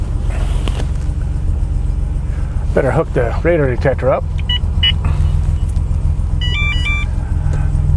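A Buick Regal Grand National's 3.8 liter engine runs with a steady low rumble throughout, while someone talks over it and a few electronic beeps chirp near the end.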